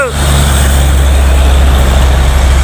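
Heavy FAW JH6 truck with a 460 hp engine labouring up a congested uphill climb under a 63-ton load, a loud, steady low-frequency drone running continuously throughout.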